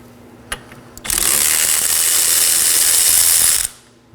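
A ratchet spins rapidly and loudly, removing the 21mm brake caliper bracket bolts on a Chevrolet Equinox, one sustained whirring burst after a couple of sharp clicks, close up with no talk.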